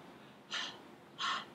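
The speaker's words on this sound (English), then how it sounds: "shortness of breath or trouble breathing," Two short, breathy gasps spaced about 0.7 seconds apart, like labored intakes of breath demonstrating shortness of breath or trouble breathing, alone over a faint background hiss.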